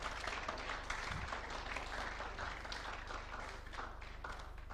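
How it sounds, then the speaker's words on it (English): Audience applause at a CHAOSScon Africa 2023 conference session, a short, steady wash of clapping heard over a low room hum. "give a round of applause for him"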